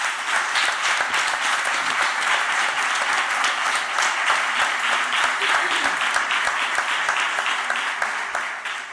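An audience at a historical memory conference panel applauds steadily for several seconds, a dense, even patter of many hands that carries through the whole stretch.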